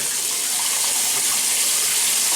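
Warm water running from a tap into a bathroom sink before shaving, a loud, steady, close hiss and gush that continues unbroken with no voices.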